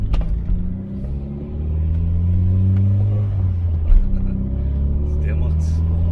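Volkswagen Golf 1 GTI driving on the road, with a steady low engine rumble and drone that holds throughout, a brief surge near the end, and people talking over it inside the car.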